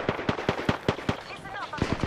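Rapid gunshots in Apex Legends, a string of sharp evenly spaced cracks, a brief pause, then a quick final burst of three shots, close and loud.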